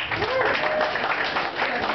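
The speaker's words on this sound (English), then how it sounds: "A lot of rounds of applause, please." Applause from a club audience at a live rock show, a short burst of clapping and crowd noise with some voices mixed in.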